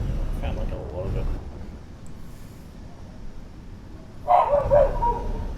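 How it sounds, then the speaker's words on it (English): A pet dog named Turbo barks at the neighbour's dog, sharp yelps and barks breaking out near the end, loud against a low background rumble after a quieter stretch. "Turbo's barking at the neighbour dog"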